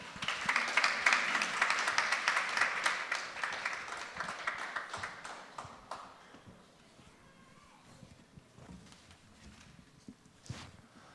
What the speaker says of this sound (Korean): 박수로서 맞이해 주십시오.